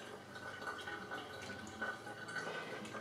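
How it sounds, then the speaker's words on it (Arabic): Hot water trickles and drips into a baking dish for a chocolate caramel flan cake, a faint, steady splashing pour close by. "غادي نديرو فيه شوي ديال الماء وغادي نحطو فيه لو كيك."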